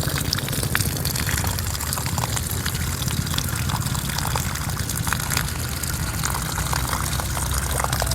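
Water poured from a pot onto newly planted flower beds in a garden, a steady gushing splash running continuously at moderate level with no talk.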